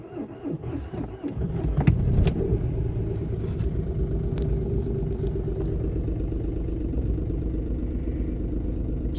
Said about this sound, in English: It was never in doubt that this car would start up.